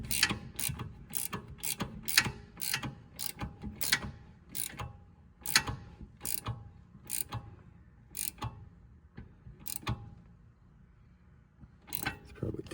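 A ratchet wrench tightens rear brake bolts on a 2015 Volkswagen Jetta TDI, giving a quick run of sharp, close clicks in uneven bursts with brief pauses and no talking.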